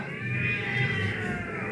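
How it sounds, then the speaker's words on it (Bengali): A cat meows in one long, drawn-out cry inside a home, steady and fairly close, with no one talking over it. "বিড়াল ডাকছে"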